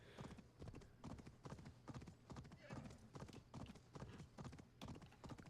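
Horse hooves clip-clop in a steady, rapid gallop rhythm in the Assassin's Creed Valhalla video game, loud and continuous throughout, with a brief neigh and faint game sounds mixed in.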